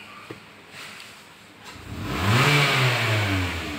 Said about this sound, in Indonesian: Dan saat kita injek gas